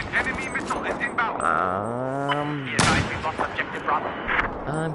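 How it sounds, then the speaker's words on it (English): A missile explosion in a video game lands as one sudden, loud blast about midway, set amid busy game noise, with voices talking throughout. "An enemy missile is inbound."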